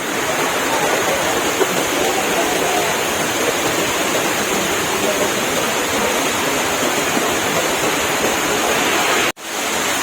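Hulugan Falls in Luciana pours in a loud, close, dense wash of steady rushing water that stays constant, then cuts off abruptly just before the end.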